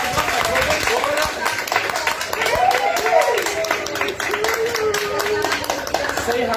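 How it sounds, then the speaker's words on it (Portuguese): A studio audience gives a round of applause for a show's producer, steady clapping under a voice that keeps talking throughout. "Quero pedir uma salva de palmas para a nossa produtora."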